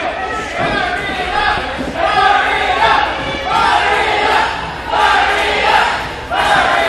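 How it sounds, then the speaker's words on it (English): A wrestling crowd comes alive for Phoenix at a 2018 Unbreakable independent show, loud chanting and cheering swelling in repeated waves, close and filling the space. "you hear the crowd coming alive for Phoenix"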